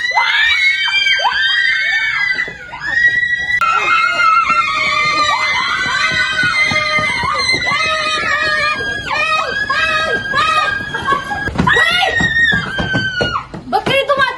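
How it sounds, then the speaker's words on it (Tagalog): A group of people screaming loudly in fright as they run away, continuous overlapping high-pitched shrieks close by, with no pauses for the whole stretch. "bigla na lang sila sumigaw eh"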